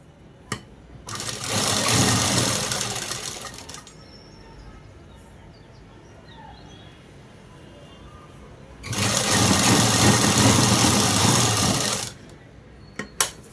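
A sewing machine stitches a blouse in two loud, steady runs of a few seconds each, separated by a quiet pause with faint handling noise, plus a couple of small clicks at the start and end.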